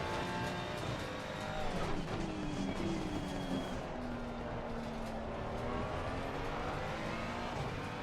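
Race car engines drone steadily in a sim racing game at Brands Hatch, with a Lancia rally car among them, a continuous rising and falling whine with no break.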